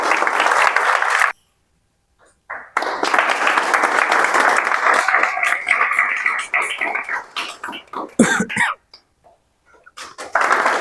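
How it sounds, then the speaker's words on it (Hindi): Applause from students and staff at a coaching institute's JEE Main 2024 results celebration: dense, steady clapping fills the room for over a second, breaks off into silence, then resumes and rolls on with a few voices mixed in. "ताली बजा दीजिए भाई।"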